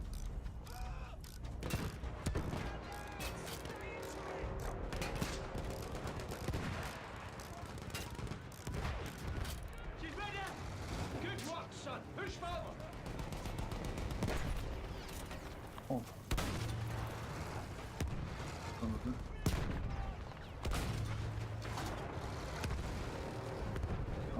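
Gunfire in Battlefield 1 aimed at an artillery gunner: rapid bursts of shots and heavy booms crackle through a busy battlefield, with mechanical clanks and someone talking over the action.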